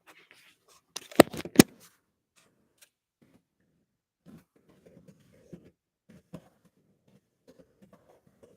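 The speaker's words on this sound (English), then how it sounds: "I'm shuffling now for Aquarius, Sun, Moon, or Rising." A tarot deck being shuffled by hand: a couple of sharp card snaps early on, then sparse, soft rustles and taps, quiet and close.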